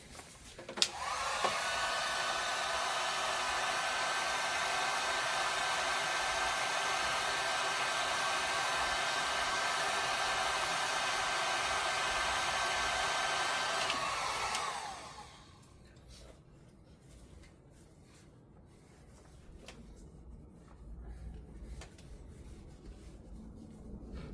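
A heat gun blowing hot air onto a stuck part during an oil catch can install on an Alfa Romeo Giulia Quadrifoglio, a steady whirring roar for about fourteen seconds that then cuts off, leaving faint handling noises.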